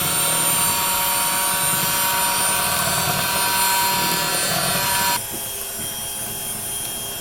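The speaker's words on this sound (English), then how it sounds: "Make sure you beat it 2 minutes because you want to get those little lumps out that were in the cake mix." Electric hand mixer on medium speed beating boxed cake mix batter for an old-fashioned Southern fudge cake, a steady close whirring motor hum that drops to a quieter tone near the end.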